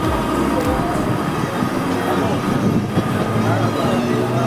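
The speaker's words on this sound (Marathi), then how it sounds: "आता आपली ट्रेन निघालेली आहे" Mumbai local suburban train near Kurla station running along the track, a dense continuous rumble and rattling clatter of the carriages heard from on board, loud throughout.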